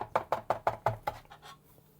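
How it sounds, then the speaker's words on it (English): A knife chops a small bunch of parsley finely on a cutting board, giving about six quick, even taps that fade toward the end, close and clear with no talking. "we'll just chop that up nice and fine"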